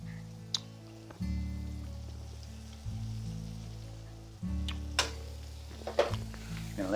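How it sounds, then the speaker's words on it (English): Broccoli hisses and crackles gently in a pan, a soft steady sizzle with occasional pops over a low, droning background hum. "Gonna let that sizzle around a little bit."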